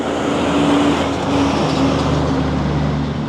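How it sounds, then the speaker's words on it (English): A triaxle dump truck rumbles past on a road, a loud steady engine roar and tire noise that swells and holds close by, with no voices. "I had a little triaxle going past me there"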